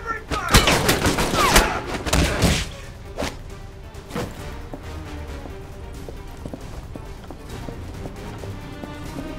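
Rapid bursts of gunfire crackle in Alpha Protocol, a loud dense volley for the first few seconds, then scattered single shots and thuds over quieter background noise.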